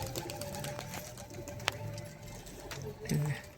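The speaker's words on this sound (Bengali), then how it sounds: "ভিডিও করার জন্য পায়রাগুলো ছেড়েছিলাম" Pigeons coo softly at a distance in an outdoor yard, with scattered clicks and rustles and a sharp knock, while a voice speaks faintly in the background.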